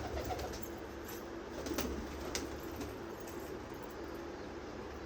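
Pigeons for sale in Tarn Taran, Punjab, keep up a soft, continuous cooing, faint and blended into a busy background hum with a few brief sharp clicks, no voices.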